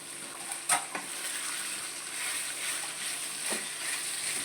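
Omelette pieces and chicken being stir-fried into chicken fried rice, a steady close sizzle with scraping stirs and a couple of sharper spatula knocks, no talking.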